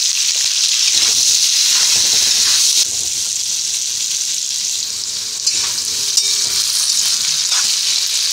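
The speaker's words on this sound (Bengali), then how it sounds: "আলুটা 4-5 মিনিট একটু ভাজা হয়ে গেছে" Potatoes sizzle steadily in hot oil in a pan with salt and turmeric, a loud continuous frying hiss with occasional stirring scrapes and no voices.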